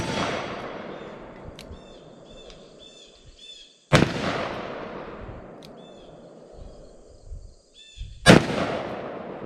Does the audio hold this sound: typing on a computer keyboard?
no